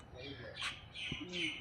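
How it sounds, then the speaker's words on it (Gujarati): Sparrows chirp and squawk in a quiet village setting near old temples, a few short bright calls over about two seconds with faint background murmur. "ચકલાની ખિલખિલાટ"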